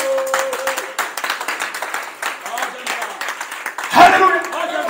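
A church congregation claps rhythmically throughout, steady and fairly close, with people speaking and calling out over the clapping.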